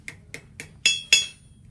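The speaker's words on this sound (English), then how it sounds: "I'm going to hold it like this on the end, and I'm going to hammer it" Metal cone struck by a hammer during metalsmithing forming, five sharp ringing blows at a steady rhythm, the last two louder and more metallic, heard close with no talk.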